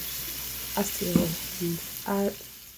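Ribeye steak sizzling in a pan as Worcestershire sauce goes in, a steady frying hiss with a few short bursts of clatter or liquid hitting the hot metal, close by and with no talking.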